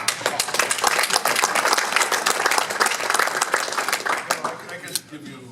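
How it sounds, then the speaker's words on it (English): Loud, sustained audience applause at a labor breakfast in Aurora, Illinois, many hands clapping in a dense crackle before tapering off at the end. "So I think they both deserve a round of applause here."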